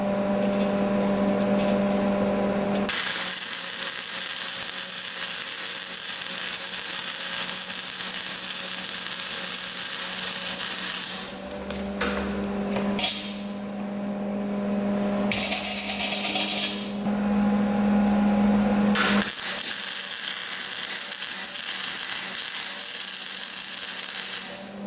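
A cheap gasless welder lays a bead on a 1989 Honda CR250 dirt bike frame, a steady crackling buzz that runs in several long bursts separated by brief pauses.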